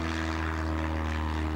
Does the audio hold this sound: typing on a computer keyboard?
no